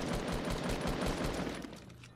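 Rapid gunfire in the video game Fortnite, with steady rhythmic shots firing close and loud in quick succession, then tapering off near the end with no talking over it.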